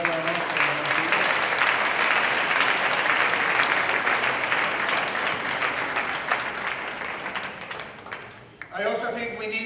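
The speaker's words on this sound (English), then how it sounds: "we can give them all a round of applause for what they achieved" A large audience gives sustained, loud applause for students' exam results at an international school event, steady clapping that fades out near the end before a voice starts speaking.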